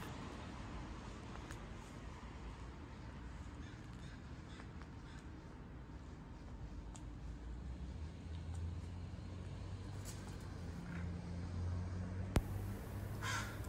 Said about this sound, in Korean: 조금 이른 아침이라 까마귀 그리고 갈매기들이 많이 보였습니다